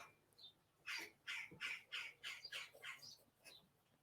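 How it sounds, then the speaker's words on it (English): Several loud, harsh bird squawks in a garden repeat in a rough rhythm, fairly close, with faint background hum and no talking. "Some noisy birds in the garden today."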